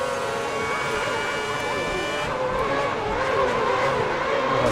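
Formula 1 cars race through Monaco streets in a video game, high whining engines rising and falling as they pass close, with continuous loud engine tones throughout.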